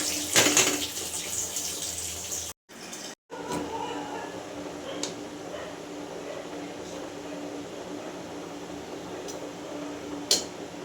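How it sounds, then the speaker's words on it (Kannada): Water pours steadily into a pot for pulao, three cupfuls, with a continuous splashing hiss, briefly interrupted by short gaps, with a few faint clinks. "ನಾನು ಮೂರು ಲೋಟ ನೀರು ಹಾಕೋತಾ ಇದ್ದೀನಿ"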